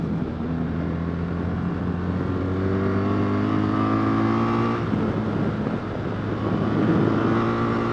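A 2024 BMW R 1300 GS motorcycle accelerates hard through the gears, its engine droning loudly and steadily with rising harmonic tones, a brief dip at a gear change, then pulling strongly again up to fourth gear.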